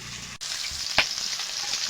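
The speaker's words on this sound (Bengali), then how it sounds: "বাকি মাছগুলো ভেজে নেব।" Pangas fish frying in hot oil in a wok, a steady close sizzle throughout with one brief louder pop of spattering oil midway.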